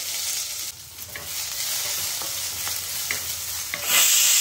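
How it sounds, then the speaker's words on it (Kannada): Chopped onion fries in hot oil with mustard seeds and curry leaves, a steady bright sizzle and crackle broken by a few scraping stirs, close up, rising louder near the end, with no voices. "ಇದಕ್ಕೆ ನಾನು ಒಂದು ಹೆಚ್ಚಿರುವಂತ ಈರುಳ್ಳಿ ಸೇರಿಸ್ಕೊತಾ ಇದ್ದೀನಿ."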